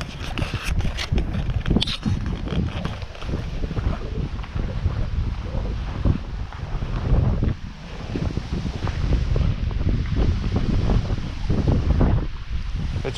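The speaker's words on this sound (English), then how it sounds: "It's windy." Wind sweeps across the Himeji Castle grounds in Japan, a steady low roar buffeting the microphone with gusts that swell and ease throughout, no voices.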